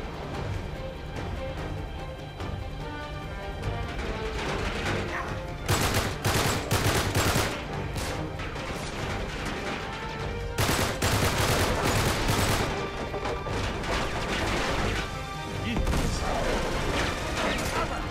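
Dense gunfire in the video game Uncharted 3 during a caravan chapter, loud sustained bursts of automatic weapons with overlapping shots and crashes, nearly continuous throughout with brief lulls, while a player talks now and then.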